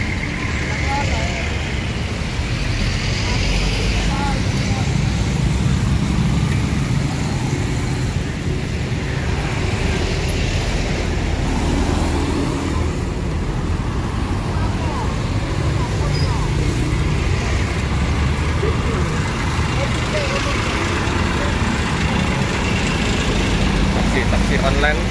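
Steady road traffic passing continuously at a busy bus terminal area in Palembang during the holiday return rush, a constant broadband rumble of engines with people talking faintly throughout.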